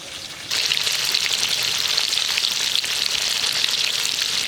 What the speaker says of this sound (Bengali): ইলিশ মাছ ভাজার সময় গোটা চত্বরটা মনে হচ্ছে সেন্টে ময়ময় করছে যে হ্যাঁ ইলিশ মাছ ভাজা হচ্ছে